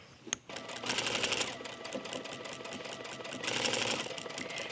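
A sewing machine stitches a buttonhole along a tunic placket, running steadily at close range with a brief pause and faster bursts of rapid needle strokes.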